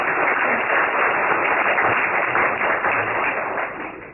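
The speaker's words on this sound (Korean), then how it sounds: "우리 감사의 박수를 부탁드리겠습니다" A church congregation claps in thanks, a dense, steady wash of applause that holds evenly at close range and tapers slightly at the very end.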